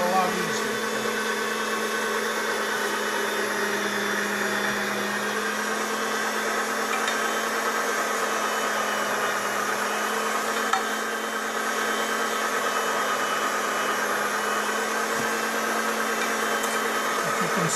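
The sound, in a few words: sausage grinding machine running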